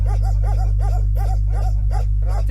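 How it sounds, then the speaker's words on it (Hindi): A Kashmiri Eksaya (Bakarwal) dog barks open-mouthed in a steady series of short, evenly spaced barks, loud and near, over a constant low droning background. "स्पेसिफिक जो ओपन माउथ बार्किंग है"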